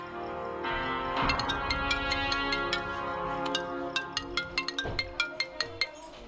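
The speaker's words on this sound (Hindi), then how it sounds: "बिम्बी तुम्हारे लिए कॉल है।" A tonal phone ringtone plays, starting soft and building into a steady series of sharp, repeating beeps that grow louder toward the end.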